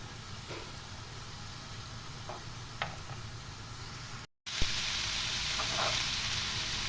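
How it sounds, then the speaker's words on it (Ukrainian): Champignon mushrooms and onion fry in a pan with a steady, dense sizzle. After a brief dropout the sizzle returns louder, with a few soft ticks and pops over it. "грибочки піджарюються"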